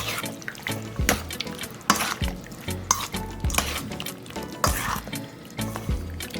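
Soy sauce and green seasoning being stirred together for bhagi rice, giving wet, sloshing mixing scrapes in an uneven rhythm, close and moderately loud with no talking over them.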